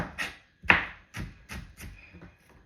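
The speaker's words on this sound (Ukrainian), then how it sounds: "Беру цибульку, нарізаю." A knife chops an onion on a board in about six distinct strokes, close up and uneven in rhythm, with quiet gaps between cuts.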